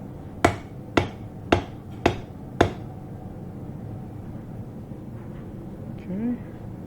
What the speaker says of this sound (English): All right, a little pounding here. Bit on the anvil.